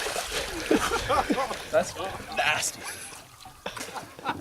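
Water splashing and sloshing as a person bathes in a cold lake at about 41 degrees after moose hunting, with scattered splashes and trickles close by under a person talking.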